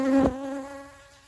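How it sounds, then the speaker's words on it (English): Buckfast honey bees buzz at an open hive, a close, loud insect drone that peaks briefly and then fades steadily over about a second. "there's a lot of bees down here"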